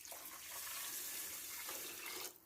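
Water from a tap runs steadily into a cooking pot for about two seconds, a bright splashing hiss that stops abruptly near the end, with no voices.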